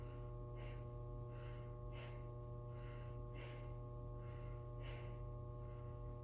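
Shallow chest breathing demonstrated during a yoga therapy lesson: a series of soft, regular inhale-exhale breaths repeating about every one and a half seconds, close up over a steady low electrical hum.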